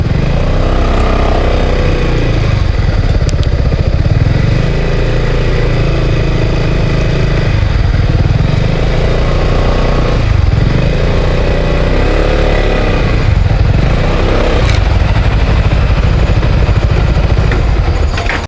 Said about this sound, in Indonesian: Akhirnya udah aman kembali motornya Dava untuk sementara ini